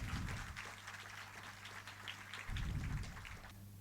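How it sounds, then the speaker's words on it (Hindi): A theatre audience at a play gives steady, faint applause as a director is welcomed, continuous clapping heard from a distance with a brief swell partway through. "एक बार जोरदार तालियों से स्वागत करेंगे"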